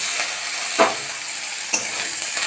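Boiled banana stem frying in a pan: a steady, fairly loud hiss of sizzling broken by two sharp scraping knocks of a spatula against the metal about a second apart, with no talking.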